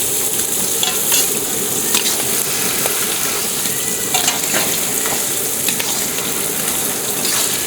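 Taro greens heads and slit raw green chillies lightly frying in a pan for a hilsa fish dish, with a loud continuous sizzle and occasional stirring scrapes throughout.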